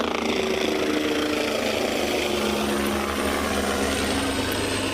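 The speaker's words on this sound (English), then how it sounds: "So that noise you hear in the background is a helicopter," A helicopter flying an anti-poaching patrol over a private game reserve in the Kalahari, its steady low rotor drone and engine hum filling the background, continuous and moderately loud with no speech.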